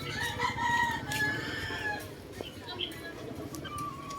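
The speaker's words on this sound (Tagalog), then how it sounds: "kasi nagkakahalak-halak yung mga manok." Chickens cluck and chatter in a busy flock at midday while their feeders are cleaned, with a rooster-like call rising through steady outdoor background noise.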